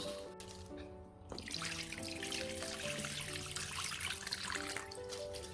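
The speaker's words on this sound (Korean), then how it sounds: "물을 부어줍니다." Water pours steadily through a fine cotton cloth laid over a container to strain homemade soy sauce, a continuous close trickling and splashing that runs unbroken throughout.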